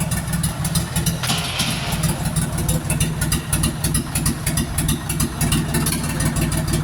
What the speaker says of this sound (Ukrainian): Отак іде завантаження тракторів.